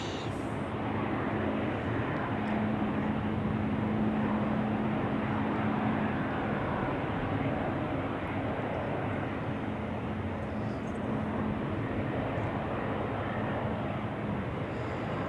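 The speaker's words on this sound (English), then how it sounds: "The next heavy here, Swiss A330 out to, that's Dubai, I think." A Swiss Airbus A330 heavy jet departing Zurich Airport on a crosswind day, its engines a sustained broad roar with a low steady hum, heard continuously from a distance without speech.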